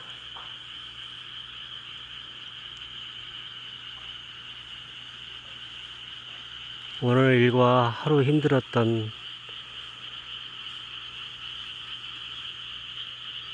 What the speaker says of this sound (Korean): 도시에 살면서 느끼지 못했던 개구리들의 합창 소리를 들으며 첫낮밤을 지내려 봅니다.